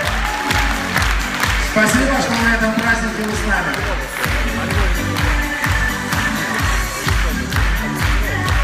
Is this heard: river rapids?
no